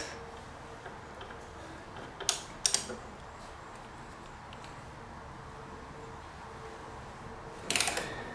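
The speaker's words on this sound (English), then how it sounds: "get my torque wrench out" Brief clicking ratchet bursts from a torque wrench on Honda VTX 1300 fork bolts, a few quick clusters of clicks over a quiet garage hum.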